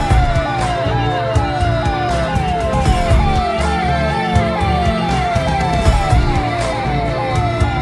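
An ambulance siren stuck in heavy road traffic gives a loud, steady run of repeating falling wails over a dense wash of traffic and background noise.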